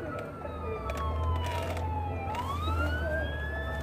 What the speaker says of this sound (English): If y'all can hear the sirens.